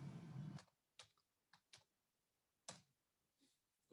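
A few sparse, isolated keystrokes from code being typed on a computer keyboard, each a brief, crisp click separated by gaps of near silence, following a short murmur at the start.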